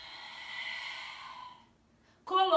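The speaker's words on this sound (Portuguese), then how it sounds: "Então eu inspiro, fecho as costelas, soltando o ar." A long, breathy exhale, close and steady, released slowly during an abdominal exercise, fading to quiet before a voice starts speaking.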